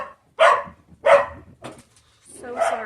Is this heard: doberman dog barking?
yes